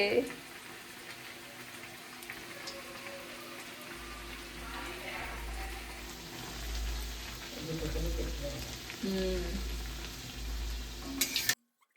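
Kachori deep-frying in hot oil in a home kitchen, a faint, steady sizzle running throughout with a low hum joining partway, while people talk nearby.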